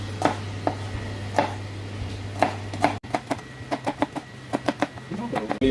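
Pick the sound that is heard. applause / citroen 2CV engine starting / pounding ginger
pounding ginger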